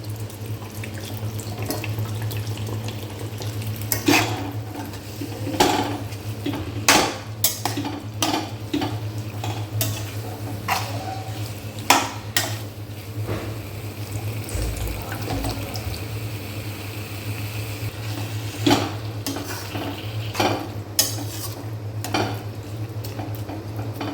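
Water poured into and stirred through an Amritsari nutri kulcha spice mix, with splashing, tap-like running water and scattered clinks of a spoon against the bowl, close and steady over a constant low hum, no talking.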